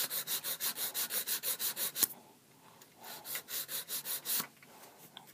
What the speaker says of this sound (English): I think it's a 180 grit. So, yeah. I'm going to shape the sides here.